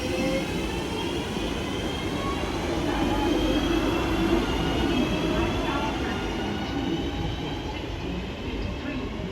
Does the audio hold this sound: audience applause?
no